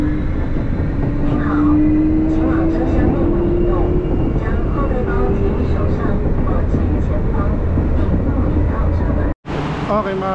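A Taipei MRT Brown Line train rumbles steadily from inside the car, a loud continuous roar with a rising whine as it moves between stations, and voices murmur beneath.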